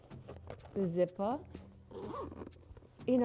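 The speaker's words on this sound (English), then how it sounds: "yeah, the zipper," Quick pulls of a handbag zipper rasp in short bursts, close up, with a voice talking in between.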